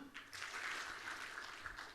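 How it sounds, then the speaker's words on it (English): An awards-evening audience claps on cue, a brief burst of applause that is faint and distant and runs for a couple of seconds rather than a single sharp clap. "I want all of you to please clap once when I say one"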